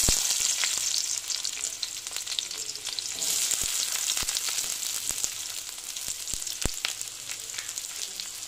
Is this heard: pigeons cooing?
no